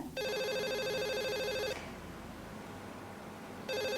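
An indoor telephone rings in a drama film: one long electronic ring, then a pause, then a second ring starting. The sound is clear and steady, with no speech over it.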